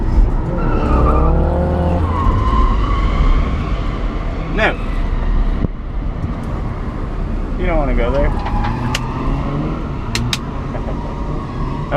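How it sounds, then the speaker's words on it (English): A BMW E36 skids and burns rubber, its tires squealing in wavering bursts over a loud, close engine roar, with people talking over it. "Burn that rubber."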